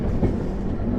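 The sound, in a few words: train knocking and clattering on the rails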